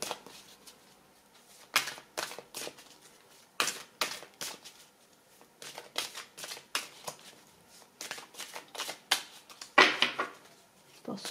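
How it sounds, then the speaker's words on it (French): Tarot cards shuffled for a three-card reading, a string of crisp riffling bursts with short pauses, close and alone with no voices. "nous allons voir trois cartes avec Dorine Virtue."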